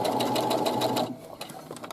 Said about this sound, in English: I want to go a few stitches forward, and then I'm going to back stitch.